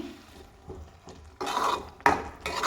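Onions for tomato chutney stirred in a pan: a quiet stretch, then two loud bursts of utensil scraping and clanking against the metal pan, close up, with little sizzle.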